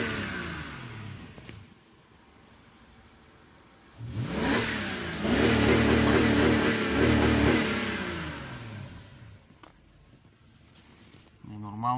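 A Jaguar XJ8's engine idles, then revs up loudly for several seconds with a rising, throaty roar before settling back down; a voice speaks briefly.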